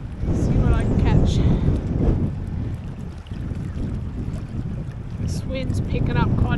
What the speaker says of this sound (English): This wind's picking up quite a bit now.